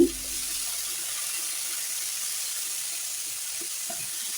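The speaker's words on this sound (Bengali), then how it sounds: "এখানে বিচিওয়ালা সিম শিমটা আর আলুটা ভেজে নেব আমি" Flat beans with seeds and potatoes fry in a pan, making a steady, close hiss and sizzle that carries evenly from start to finish, with a faint crackle here and there.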